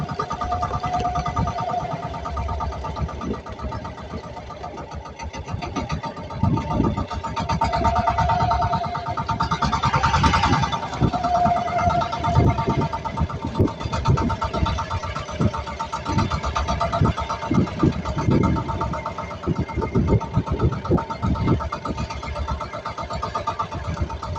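A fishing boat engine on a crab-catching trip runs steadily, a continuous rumbling drone with rhythmic pulsing throughout, fairly close and unbroken.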